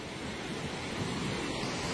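A river runs beside the school in Chooralmala, Wayanad, Kerala, producing a steady, full rush of flowing water that stays even and unbroken throughout, with no voices over it.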